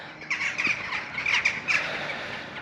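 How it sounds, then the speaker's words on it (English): Several birds squawk in a ragged series of harsh, bright calls near a Welsh castle, at moderate distance over faint outdoor background noise. "And the birds."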